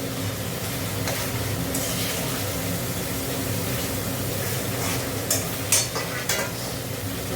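Spice masala stir-fried in oil that has begun to separate, with a steady moderate sizzle under continuous stirring, and a few sharper clinks and scrapes of the spoon near the end.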